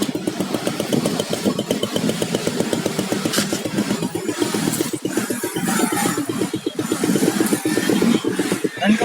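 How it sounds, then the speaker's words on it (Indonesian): A motorcycle fitted with a Wi-Fi remote control and security system, started by its starter button and settling into a steady, rapid mid-pitched idle that stays loud and close throughout. "menyalakan motor dengan cara menekan tombol starter"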